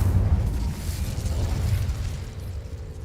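Incendio fire spell cast in the video game Hogwarts Legacy, a dense, rumbling burst of flame that roars loud from the start and then slowly thins over about three seconds.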